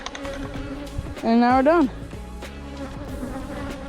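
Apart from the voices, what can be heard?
honey bees buzzing around a hive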